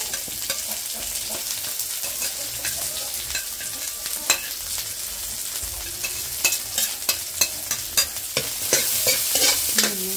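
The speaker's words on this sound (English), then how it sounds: "stir the garlic until it's brown, a little bit brown color and smell good. And after that, put in the onion and stir together with garlic." Garlic and onion frying in a pan for Filipino spaghetti, stirred with a utensil: a steady soft sizzle runs throughout, with scattered clicks and scrapes of stirring that grow busier toward the end, close up and alone.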